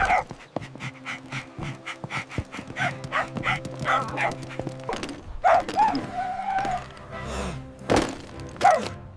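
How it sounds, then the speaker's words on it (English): A dog barks in short, excited bursts and pants between them, with thumps and scuffling of play nearby, in a LEGO City chase game. "A dog barks happily."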